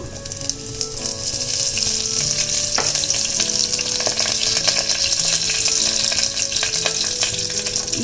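Curry leaves and cumin crackle in hot oil for a tempering for avarekaal usli, a loud, continuous close-up sizzle with faint stirring throughout.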